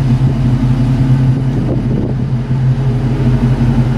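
A Ford car with an AOD transmission and a newly installed Flowmaster Super 44 cat-back exhaust idles steadily, a loud, deep, continuous rumble with a slight lope and no voices.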